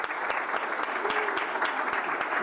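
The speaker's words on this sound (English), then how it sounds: "A round of applause for all of our nominees" A room full of supporters applauds award nominees at a morning ceremony, steady dense clapping from start to end.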